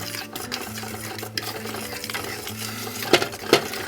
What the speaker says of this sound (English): Mix that in with your flour thoroughly